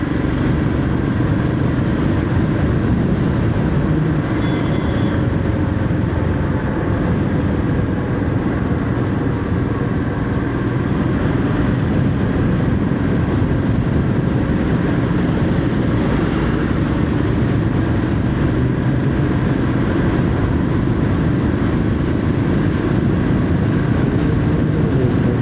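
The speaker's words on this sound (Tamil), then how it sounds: "எக்ஸாஸ்ட் சவுண்டு தாங்க பிச்சுக்கிட்டு போகுது" A vehicle's loud exhaust roars steadily and continuously up close on a highway run from Madurai toward Hosur. The broadband rumble holds at one level throughout with no talking.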